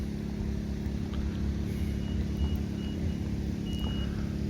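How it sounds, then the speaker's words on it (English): Electronic bite alarms on fishing rods at a day-ticket fishery, Hampton Springs in late September, set off by wind shifting the lines: a few short high bleeps over a steady, loud low rumble of wind. "A lot of the bleeping going on is because it's the wind blowing the lines around."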